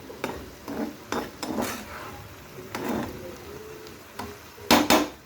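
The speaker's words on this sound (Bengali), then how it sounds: "একটু আমি নেড়ে চেড়ে দিচ্ছি।" A spatula stirs leafy greens (shak) frying on low heat in a pan, giving close, scattered scrapes and soft clatters over a quiet background sizzle, with no voices.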